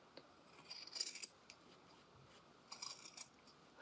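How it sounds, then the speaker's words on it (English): Fabric scissors trim into a sewn jacket facing just below the stitch line. Two quick bursts of crisp snipping sound close and fairly quiet, with a pause between them. "we're also going to trim into it, just below the stitch line"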